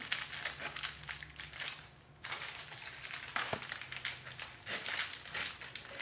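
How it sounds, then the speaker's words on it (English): Foil cellophane is crinkled around a St. Patrick's Day candy bouquet with a bear and butterscotch discs, making close, loud, continuous crackling and crumpling with one brief pause. "My foil cellophane."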